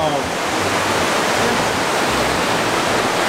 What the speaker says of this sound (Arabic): ما في كبسه نطفي صوت النهر